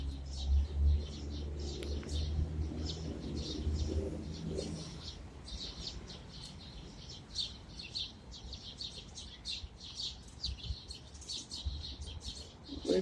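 Birds nesting in a city, a busy chorus of loud chirps and coos repeating constantly, fairly close, over low background rumble that fades after the first few seconds.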